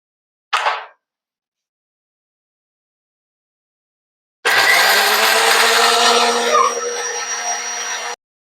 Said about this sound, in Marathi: हे बघा कांदा आणि टमाटर याची प्युरी बनवून घेतलेली आहे